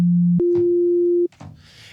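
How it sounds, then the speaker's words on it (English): A pure sine tone from Ableton's Operator synth, used for EDM bass design, holds one steady pitch, then jumps to a higher sustained pitch. Each note is clean and loud, with brief clicks at the transitions and faint noise after it stops. "I'm using just an operator, which is just playing a sine wave"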